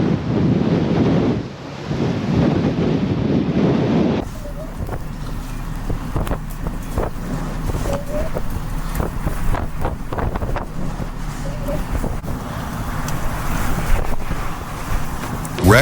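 Record-breaking storm winds sweeping through Henan, roaring loudly with heavy microphone buffeting that eases after a few seconds into a gusty, rushing wash, with no speech.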